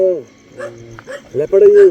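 A dog barks and yips at night in a village beside the Jim Corbett forest, several close, loud, reedy calls in quick succession while a person speaks nearby.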